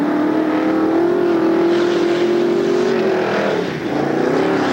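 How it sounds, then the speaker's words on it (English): A mud bog truck circling in mud at a 1994 Lake Odessa, Michigan event, its engine droning loudly and steadily, the pitch rising and falling as it turns. "Darren doing circles down here in our becoming a famous corner"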